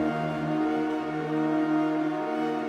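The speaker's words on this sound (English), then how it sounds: "Let's try these action pads." Synth action pads preset playing in FL Studio, a dark, sustained layered chord that swells gently and holds steady for a few seconds, with no talking over it.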